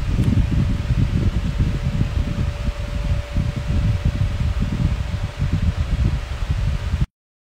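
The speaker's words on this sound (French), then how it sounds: "nous avons un petit bruit intérieur, un ventilateur qui est derrière le téléphone" A small fan runs indoors behind a phone, giving a steady, close whooshing hum with a faint constant tone that continues unbroken for about seven seconds before cutting off abruptly.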